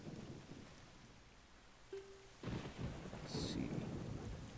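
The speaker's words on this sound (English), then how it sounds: "Just in time for it to rain, we're gonna head inside." Rain and rolling thunder in The Legend of Zelda: The Wind Waker, with quiet ambience giving way to a broad, steady wash of storm noise that stays loud to the end, with no talking.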